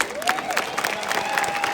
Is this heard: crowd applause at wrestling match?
yes